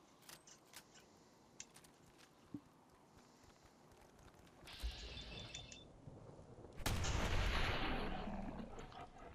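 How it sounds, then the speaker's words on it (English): Shotgun fire against ghouls in Fallout 4, a couple of loud blasts in the latter half after quieter clicks and footsteps, with game ambience underneath. "we can really just, utilize the shotgun to death"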